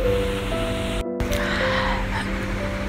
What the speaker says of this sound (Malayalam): ഇതുപോലെ എല്ലാ പരിപ്പുവടേനെയും നമുക്ക് ഫ്രൈ ചെയ്തെടുക്കാം